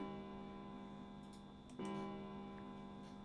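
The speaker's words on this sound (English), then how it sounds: "Oh, a bell. It sounds like the clock in the main stairway." A clock bell on the main stairway in the video game 9 Hours, 9 Persons, 9 Doors rings with a sustained, resonant chime, struck again partway through, quiet and without any talking.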